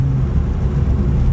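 BMW E46 M3 engine heard from inside on a UK road, a steady, loud low drone with heavy rumble and no clear changes in pitch.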